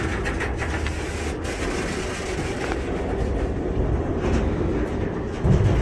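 Two trains stopping nearby rumble steadily with a low mechanical drone and faint rail noise, no voices present.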